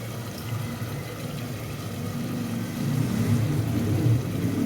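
Water poured from a tumbler into basmati rice for cooking, a steady splashing hiss over a low rumble that swells slightly toward the end, with no talking.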